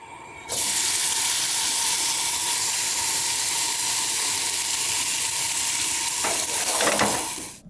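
Steak fries on a small camp cooker set over a hot fire, giving a loud, steady sizzle that starts abruptly after a brief quiet moment and runs unbroken, with a few sharper crackles near the end.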